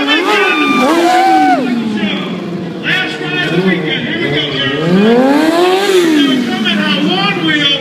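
At a motorcycle stunt show, a stunt bike's engine revs hard and loud through a wheelie ride, its pitch rising and falling in long sweeps while an announcer talks loudly over it and a crowd murmurs.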